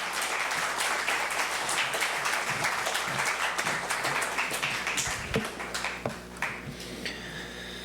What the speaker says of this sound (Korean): 우리 다니엘 목사님을 큰 박수로 맞이하겠습니다